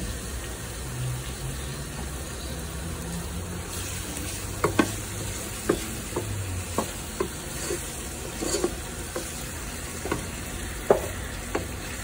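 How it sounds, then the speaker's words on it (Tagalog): Meat sautéing and being stirred in a pan for kare-kare, a steady low sizzle broken by repeated sharp clinks and scrapes of a utensil against the pan, close and moderately quiet with no talking. "Pag ginigisa o sinisir yung meat. Yan, halu-haluin din natin para hindi masunog."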